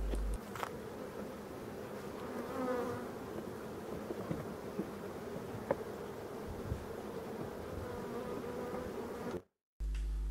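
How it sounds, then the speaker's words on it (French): Dense, steady buzzing of many honey bees on a hive frame fills the clip up close, a continuous hum that cuts off abruptly just before the end. "on voit un cadre avec pas mal d'abeilles qui travaillent"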